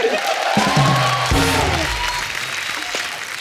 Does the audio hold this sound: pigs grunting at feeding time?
no